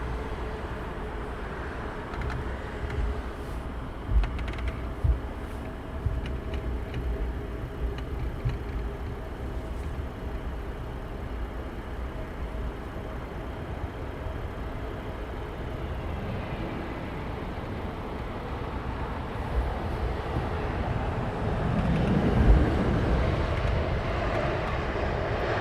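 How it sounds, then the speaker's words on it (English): Cathay Pacific Airbus A350 taxiing at Heathrow Airport, a steady low jet engine rumble and broadband roar that holds for the whole stretch, swelling slightly near the end, with no talk. "A350 taxiing out."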